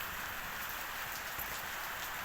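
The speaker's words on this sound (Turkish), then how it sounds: "Hafiften yağmur çiseliyor." Light drizzle falls outdoors as a soft, even patter that continues without a break, faint and close, with no voices.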